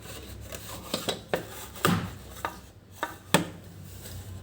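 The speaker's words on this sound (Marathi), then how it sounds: "किती लवकर कांदा कापून देत होते बारीक आणि छान चांगल्या प्रकारे" An onion is pressed through a handheld chopper, giving a series of sharp chopping clacks at an irregular, roughly half-second pace, close and distinct against a quiet background.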